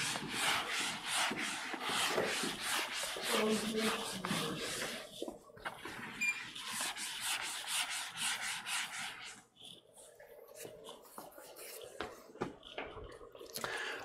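Classroom board being erased in a digital systems lecture, rhythmic scrubbing strokes of an eraser, close and brisk, pausing and resuming with lighter rubbing later.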